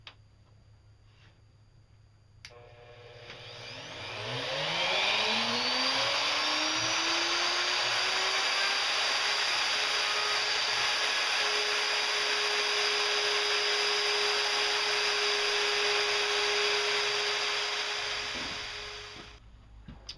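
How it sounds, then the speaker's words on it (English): A Craftsman router spins up with a rising whine into a loud, steady high-pitched scream that holds for about fifteen seconds, then winds down, with no voices. "Let's get some routing done."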